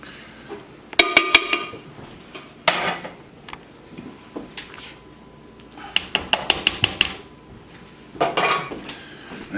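Pasta tossed with salmon, fresh tomatoes, capers and onions in a mixing bowl, heard as bursts of clinking and scraping utensils against the bowl, with quieter pauses between clusters of taps.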